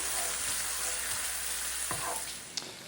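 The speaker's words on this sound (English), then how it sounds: "We need to cook the bacon just until it browns lightly and renders its fat." Bacon sizzling in a pan as it browns and renders its fat, a dense, steady crackle close up, with a few soft stirring scrapes and a small click near the end.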